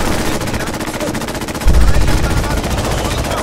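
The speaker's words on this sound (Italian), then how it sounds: "Ah, eccolo là, guarda che sta sparando." Rapid automatic gunfire from a Fallout 4 video game fight, loud and continuous bursts throughout, growing heavier about halfway through.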